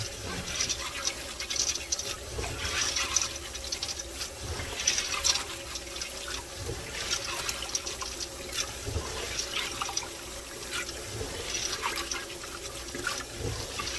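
Five pounds of navy beans being washed in water, with a steady running, sloshing wash of liquid and faint splashes continuing throughout at close range.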